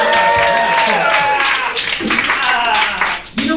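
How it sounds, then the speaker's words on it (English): Wedding guests clap for the couple Brett and Michelle, a dense crowd applause running beneath a loud voice speaking over it throughout. "Can we give them a round of applause? Round of applause."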